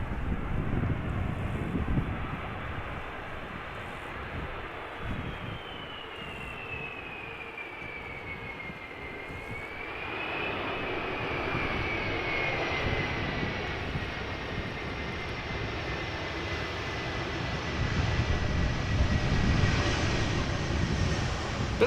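Delta Airbus A330-300, 16 years old, arriving at Amsterdam Schiphol in crosswind, lands with a brief spool-up of reverse thrust that is quickly cancelled; a steady distant engine roar with a falling whine and wind rumble throughout, no voices.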